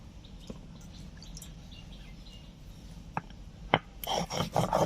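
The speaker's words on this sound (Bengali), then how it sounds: "তো পোস্তগুলো আগে বেটে নিচ্ছি।" Poppy seeds and whole garam masala spices ground on a stone in a village kitchen, a soft rasping rub with scattered scrapes and knocks that turns louder and more rhythmic toward the end, with faint birdsong behind.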